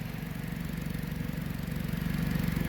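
A car engine idles with an exhaust leak, giving a steady low puffing rattle that holds close and even throughout, with no voices.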